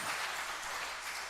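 A church congregation at a Sunday worship service claps together, a dense, even burst of applause that fills the whole short moment.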